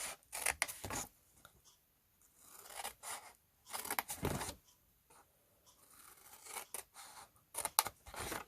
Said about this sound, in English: just using a pair of scissors, we're just going to cut straight up the score lines